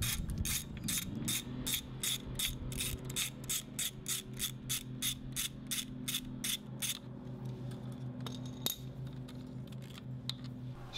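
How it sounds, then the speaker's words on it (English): A ratchet turning a Torx T30 bit backs out the servo mounting screw on a BMW R1200GSA/R1250GSA motorcycle, making a steady, rapid run of close clicks that slow and thin out toward the end. "Now we're going to remove the servo mounting screw using a Torx T30 bit."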